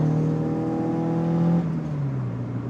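A Mk1 Renault Twingo engine pulls hard on open road, a loud steady harmonic drone that holds for about a second and a half, then drops in pitch as the gear changes and keeps running.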